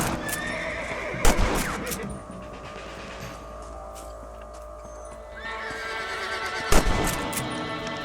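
Horses whinny loudly twice in Red Dead Redemption, with a sharp neigh near the start and another near the end, over steady clip-clop of hooves and a low ambient bed.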